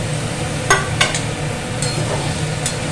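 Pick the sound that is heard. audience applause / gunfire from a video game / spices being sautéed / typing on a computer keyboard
spices being sautéed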